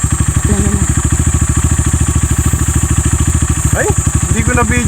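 A motorcycle engine runs with a loud, rapid, even chugging idle close by for the whole stretch, while people's voices cut in briefly over it.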